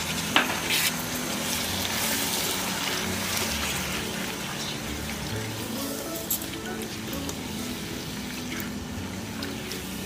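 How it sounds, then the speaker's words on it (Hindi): Curd and mixed vegetables fry in a pan for pulao, giving a steady dense sizzle with scraping stir strokes and occasional small clicks of the spoon throughout, close and continuous. "बस अभी दो मिनट के लिए हमारा दही का पानी सूखे तक ज़रा भून लेंगे"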